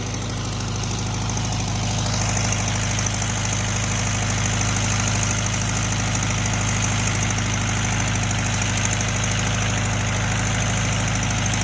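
A 1973 VW Karmann Ghia engine running after sitting 28 years, on old mixed fuel and a little smoky, idling steadily with a close, continuous rumble and a faint knock throughout.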